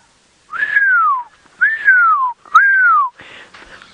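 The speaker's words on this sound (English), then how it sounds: "Pearl-spotted owlets in the drainage line are calling now." Pearl-spotted owlets call from a drainage line at sunrise on safari: three clear, descending whistled calls repeat in a slow series, each rising then sliding down, followed by softer chatter in a quiet setting.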